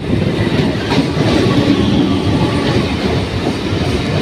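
A Ranaghat–Barrackpore local passenger train (train 60071) rumbles past at close range near Santragachi Junction, a loud, steady roar with rhythmic clatter from the wheels on the rails and no voices.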